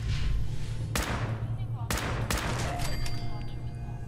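Gunfire aimed at ghouls in Fallout 4, several loud, sharp shots cracking out one by one over a steady background rumble, close and distinct.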